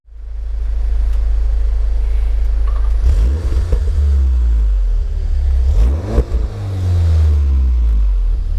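A VW car on a track during a driving experience, its engine droning loudly under throttle with deep low rumble, rising revs and shifts around the middle, close and steady throughout.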